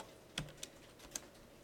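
A few sparse keystrokes on a computer keyboard while C++ code is typed, three distinct clicks spaced apart, quiet and close with no talking.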